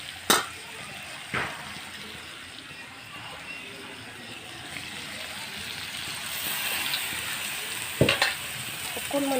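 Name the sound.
broiler chicken and mustard greens cooking after adding water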